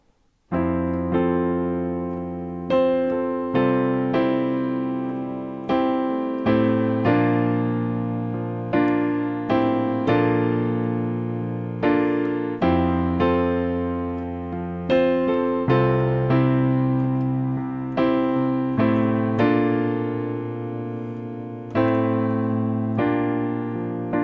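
A piano plays a steady, rhythmic sequence of full chords from the chorus of a song, each struck and left to ring, moderately loud and close with no voices.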